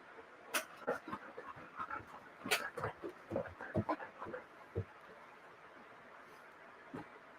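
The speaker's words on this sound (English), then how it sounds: "now that I close the door, the dog is going to freak out every second." A dog behind a closed door makes a faint, muffled run of irregular barks and thumps that tapers off into near quiet with one last soft sound.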